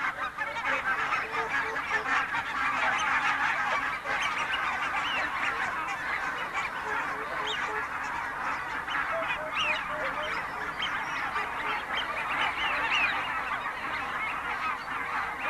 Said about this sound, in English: Incredibly, the entire population of barnacle geese from the polar islands of Svalbard, one of the world's most northern lands, spend the winter months here